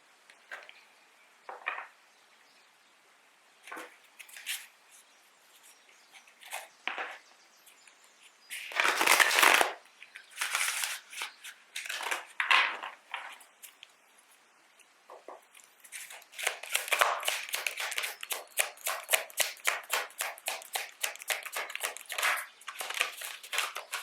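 Tarot cards are handled and shuffled, with scattered soft riffles and taps at first, then a long run of rapid, crisp flutters near the end, close and quiet with no talking.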